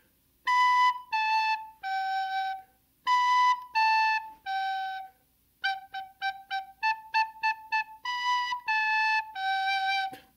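A whistle plays the Hot Cross Buns tune, three held notes twice, then a quick run of short repeated notes and a final three-note phrase, clean and close with no talk.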